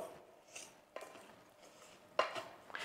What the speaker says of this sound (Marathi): अशी सगळ्या बाजून लापशी छान अशी भाजली गेली पाहिजे असं आपल्याला परतवत राहायचंय